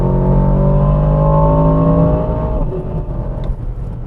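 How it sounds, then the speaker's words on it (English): An Aston Martin DBX707 SUV in Sport Plus mode pulls away hard, its engine note rising loudly and steadily through the gear, then easing off near the end, heard up close with no talk. "get a foot on the throttle and just see how it performs, let's put it in Sport Plus mode and"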